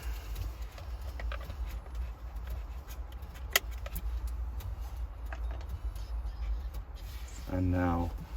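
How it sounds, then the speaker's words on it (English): Faint, irregular ticking clicks from the CD player inside a 2007 Aston Martin Vanquish sit over a low, steady hum, with a brief rattling burst near the end. "There's some clicking of the CD player behind me."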